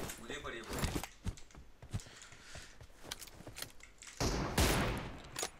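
Gunfire in PUBG Mobile, fairly quiet bursts of shots and a few sharp cracks, some in quick clusters, with people talking over the shooting.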